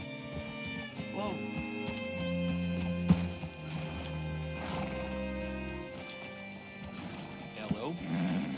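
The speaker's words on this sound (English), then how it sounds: "Hitch your horse up here." Horse hooves clip-clop and a whinny rise from a saddled mount in the Red Dead Redemption 2 game, the steps fairly near and steady, with a soft neigh, over a quiet game backdrop while a voice speaks.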